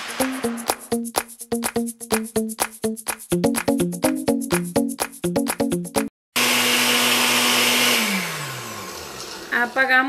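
A kitchen blender grinds chiles and tomatoes for a sauce, first in rapid chopping pulses, then after a brief stop in a long continuous whirring roar whose motor pitch sags and steps down as the blades load up.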